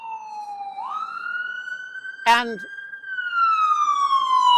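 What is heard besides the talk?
ambulance siren passing by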